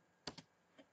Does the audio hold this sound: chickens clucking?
no